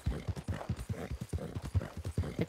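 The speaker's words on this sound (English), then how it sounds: "Hey, guys, look at my new horse." Missouri Fox Trotter horse hooves in Red Dead Redemption 2 clip-clop in a steady, close, rhythmic gait throughout, with no talking.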